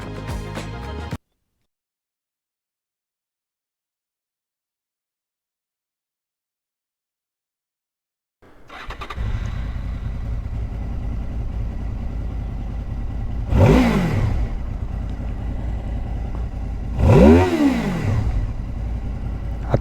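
Honda VFR 800 V-TEC (RC46) motorcycle engine catching after a short silence, idling loudly up close, then giving two sharp rising revs with a falling return, no talking.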